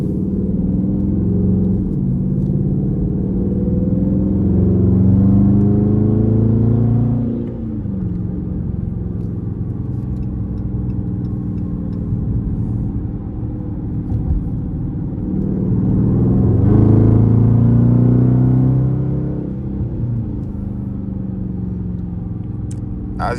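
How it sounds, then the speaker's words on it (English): A Dodge Charger 5.7 R/T accelerates with its tires spinning on a wet road, giving a loud, deep engine roar that surges twice, with rising revs and a steady rumble between. "my tire is just wet and the road is wet, so that also don't help for real. So my tire's just really spinning"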